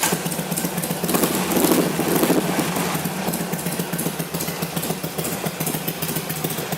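Carbureted 2006 Harley-Davidson Sportster XL883C idling close by after starting, a steady loud rumbling drone that holds without revving.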